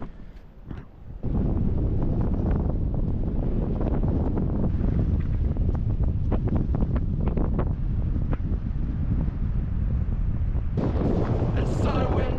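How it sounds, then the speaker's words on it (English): Strong wind on an ocean beach buffets the microphone in a continuous loud roar, with gusty thumps and crackles and faint voices underneath. "It's so windy."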